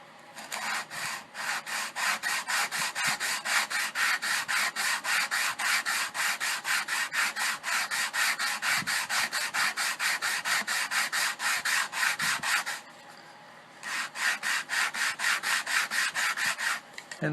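Rapid rhythmic hand rasping along a wooden guitar brace strut on a 1968 Conde-style guitar, fast back-and-forth strokes running steadily and close, with one brief pause near the end, no talking.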